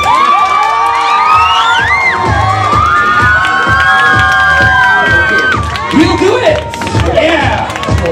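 A lively crowd at an Ikea catalogue launch event cheers, whoops and claps loudly and continuously, with shrill shouts rising over the din and a voice heard amid the noise.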